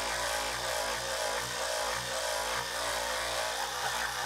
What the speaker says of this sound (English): it's very, very gently sanding down